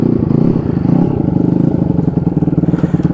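Engine of a £100 Honda motorcycle running, a loud close idle with steady rapid throbbing pulses that carries on evenly with no speech over it.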